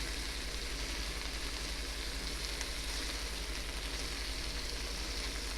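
Garlic and prosciutto fry in a pan with a constant even hiss, a close, unbroken sizzle over a faint low hum, with no stirring or talk.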